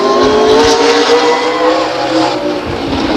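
Sprint race car from Sonora, the number 41, lapping the Stockton 99 Speedway oval in qualifying, its engine a loud continuous roar that holds steady throughout.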